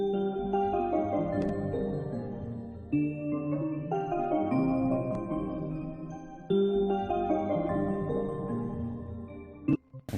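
Ambient melody built in FL Studio and pitched up two semitones with stretch mode: sustained, layered synth chords in slow phrases that shift every few seconds, steady and unaccompanied by voices, ending on a brief percussive hit.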